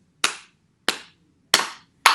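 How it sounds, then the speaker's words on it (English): Three loud, crisp hand claps in a children's classroom game, close and evenly spaced with near silence between, followed by the start of a fourth. "Doss says, clap 3 times."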